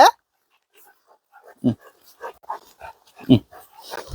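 A dog whimpers and yips in short, soft bursts while waiting for dog food, close by, interleaved with quiet human speech.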